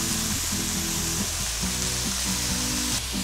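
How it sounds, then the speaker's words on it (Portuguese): Fish being quickly sautéed in a pan to brown on the other side, a loud, dense sizzle filling the whole stretch alongside a steady low hum. "Aqui então a gente dá uma salteadinha rápida para ele dourar do outro lado."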